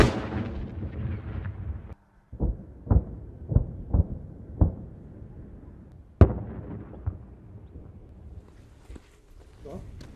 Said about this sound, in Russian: В городе не утихают звуки обстрелов.